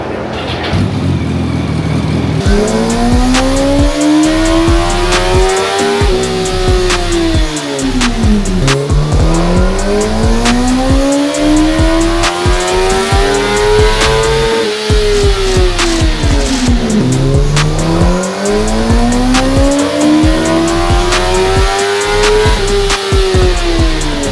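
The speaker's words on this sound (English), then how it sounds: "I'm gonna get the bike hot again, get it running again, and do another baseline" A 2008 Yamaha R1 sport bike running hard on a dynamometer: a loud, close engine note rises to a high scream and then drops back, in three repeated full-throttle sweeps.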